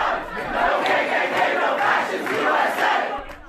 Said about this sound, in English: The crowd kept chanting, and eventually he left the podium.